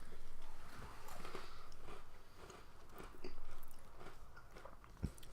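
Someone crunches Goldfish S'mores crackers right at the microphone: close, repeated bites and chewing that come in uneven bursts over several seconds, with faint background talk.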